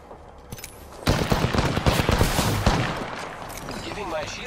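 Dense burst of gunfire in a ranked Apex Legends match, starting abruptly about a second in and rattling on loud and close, with game voice lines layered over it.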